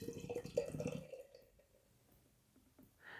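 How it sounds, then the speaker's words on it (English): Energy City Brewing's Bistro, a pineapple coconut cream pie beer, is poured into a glass in a short, bubbly gush lasting about a second. A few faint drips and small splashes follow in quiet. "Let's give it a pour here."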